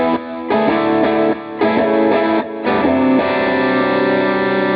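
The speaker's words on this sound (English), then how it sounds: "Staying on the same sound, coil tapping the humbucker" Yamaha Pacifica electric guitar with its humbucker coil-tapped, played through effects: ringing strummed chords in three bursts with short gaps, then a long sustained chord, loud and close with no talking.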